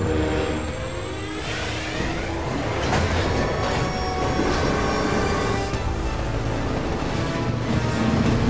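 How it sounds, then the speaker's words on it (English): A train approaches in the Call of Duty Warzone video game, with loud continuous rumbling, squealing wheels and rising mechanical noise that builds steadily over several seconds. "Train is approaching the ambush location."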